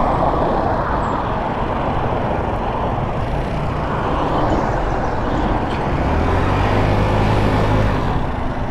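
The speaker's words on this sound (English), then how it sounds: "Look at all this traffic coming," Road traffic streams past a small GY6 50cc scooter on a ride home, a steady broadband roar of cars and trucks, loud and close, with engine rumble swelling toward the end.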